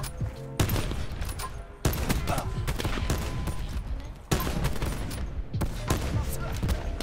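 Bursts of video game gunfire from a sniper-focused shooter match, loud and rapid, coming in several clustered volleys with brief breaks between them.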